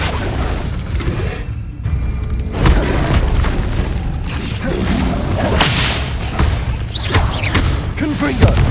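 An Incendio fire spell being cast in Hogwarts Legacy on PS5, a continuous loud roar of whooshing flame and thudding impacts layered over dense game sound, with a voice speaking along with it.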